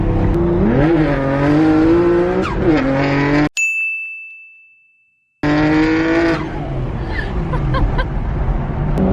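A 750 hp Nissan Skyline R34 engine roars loudly at full throttle, rising in pitch, cut by a sudden silent gap with a high tone, then the roar resumes.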